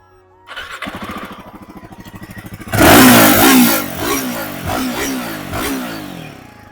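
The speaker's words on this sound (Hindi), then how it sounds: "चलो भाई हिमालयन को भी स्टार्ट कर लेते हैं।" A Royal Enfield Himalayan 450cc motorcycle cranks with a rapid, rhythmic starter chug for about two seconds, then fires loudly and revs hard before dropping back into a throbbing idle with a few more throttle blips, recorded close up.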